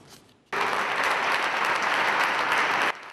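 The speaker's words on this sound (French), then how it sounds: "Applaudissements des hommes et femmes du monde de la culture dans cette salle Félix Houphouët-Boigny de l'Ivo-Sepp" Applause from men and women of the cultural world in the Félix Houphouët-Boigny hall during a funeral tribute in Côte d'Ivoire; sustained, dense clapping begins sharply after a quiet moment and cuts off near the end.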